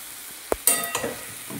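Mixed vegetables for bagan chorchori stir-fried dry in a kadai: a sharp spatula knock against the pan, then a burst of crackling sizzle with scraping strokes, fading to quieter frying, close and with no talk.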